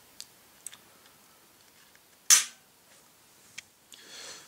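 A Glock pistol trigger resets with small sharp clicks, a few light ticks scattered across the moment and one louder snap near the middle, close and otherwise quiet.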